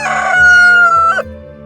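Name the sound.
rooster crowing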